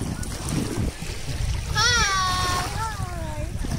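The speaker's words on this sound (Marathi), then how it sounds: "आम्ही आता पाण्यात उतरलोय" Water splashes and sloshes steadily as people wade into cold lake water, while children's voices chatter and call out close by.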